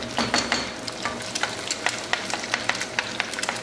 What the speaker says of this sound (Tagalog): Ito na yung itlog para sa fried rice, guys. Medyo na parami yung mantika.